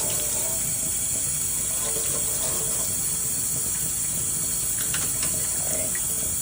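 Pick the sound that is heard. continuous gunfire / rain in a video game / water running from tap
water running from tap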